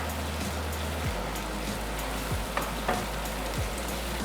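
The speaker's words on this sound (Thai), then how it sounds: "เราจะใส่พริกกระเทียมที่เราตำเข้ากันแล้วลงไปนะคะ เจียวให้มีกลิ่นหอมสักแป๊บนึงค่ะ" Pounded chili and garlic frying in a little palm oil, a steady close sizzle and crackle with occasional sharper pops, no voices.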